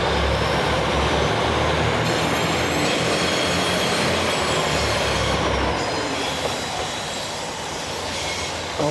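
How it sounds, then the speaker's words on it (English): A diesel train pulling out of a station in Tokyo, a loud continuous rumble of wheels and engine close by with faint squealing over it. "here's that train leaving"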